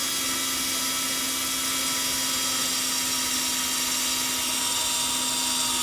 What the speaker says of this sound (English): just go ahead and drill it as well.